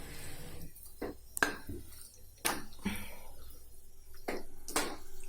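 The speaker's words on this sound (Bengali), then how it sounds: "এরপর ভালো করে নাড়িয়ে নেব" A spoon scrapes and taps around a pan while a mixture of milk powder and grated coconut is stirred, giving a series of irregular, distinct clinks and scrapes against quiet room noise.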